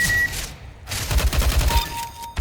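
A Negev heavy machine gun from the CS:GO video game firing a long, rapid, continuous burst of close, loud shots, with brief gaps and game sounds around it.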